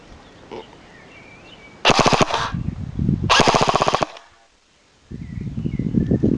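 Classic Army MP5 A5 airsoft gun firing BBs outdoors at a distant target: two loud, rapid full-auto bursts of clattering shots, about two seconds each, separated by a pause, with softer mechanical noise before and after.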